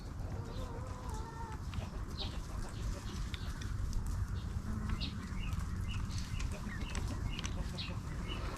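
Chickens in their pen cluck and chirp in a busy, steady flock, with soft rustles, wing flaps and scattered peeps over a constant low rumble, mid-distance and fairly loud.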